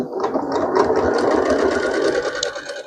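Sewing machine chain piecing quilt pieces for a pixel quilt, a close, steady rapid whirring stitch sustained for a few seconds without talk.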